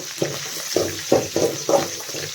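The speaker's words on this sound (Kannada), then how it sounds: "ಇದನ್ನೆಲ್ಲ ಸ್ವಲ್ಪ ಚೆನ್ನಾಗಿ ಫ್ರೈ ಮಾಡ್ಕೋಬೇಕು" Three Byadgi red chillies frying in oil in a pan for grated mango pickle, a steady hiss broken by a rhythmic series of soft stirring bursts, close and moderately loud.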